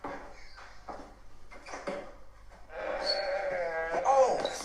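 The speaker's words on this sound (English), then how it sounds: "We got a goat on the front porch now." A goat bleats near a front porch, a wavering, moaning cry rising over a quiet background after a few faint knocks and scrapes, with soft speech in the background.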